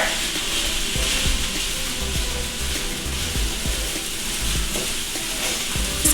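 Ground beef frying over medium-high heat in a skillet, a dense, steady sizzle with repeated scraping and tapping as the meat is broken up, fairly loud and close, no speech.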